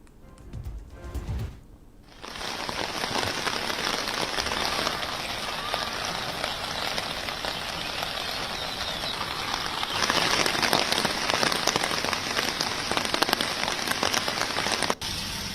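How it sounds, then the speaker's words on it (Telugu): Steady rain falls in Jammu and Kashmir, a dense hiss of drops on surfaces that starts after a brief pause and carries on evenly and loud to the end, with no voices. "చాలా చోట్ల అడపాదడపా తేలికపాటి నుంచి ఓ మోస్తరు వర్షం పడింది."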